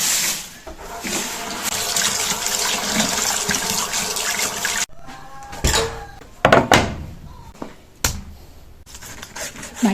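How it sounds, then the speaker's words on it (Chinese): Raw pork being rinsed under running water from a kitchen tap, a steady broadband splashing stream for about five seconds, then intermittent splashes, thunks and handling knocks as the meat is moved about. "就把我们的猪肉也洗一下。"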